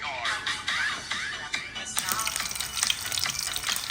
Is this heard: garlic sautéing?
yes